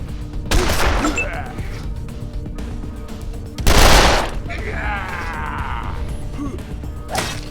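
Gunfire in the Wasteland 2 video game, heard as sharp broadband bursts: a shot early on, a louder blast around the middle and a final one at the end, with game effects and a bleating-like call between them.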